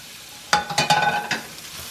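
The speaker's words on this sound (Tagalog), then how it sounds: "Isunod na natin ang sibuyas." Onion dropped into a hot pan for chicken and gizzard tinola bursts into a loud sizzle in a few quick crackling surges, then settles to a soft hiss, with no talking.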